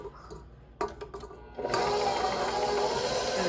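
An electric mixer starts up on room temperature butter for Danish butter cookies, first with a few short taps, then settling into a loud, steady whirring drone.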